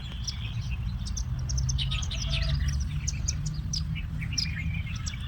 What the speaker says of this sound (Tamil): இது மாதிரி சின்ன சின்ன சிட்டுக்குருவியெல்லாம் வருவாங்க.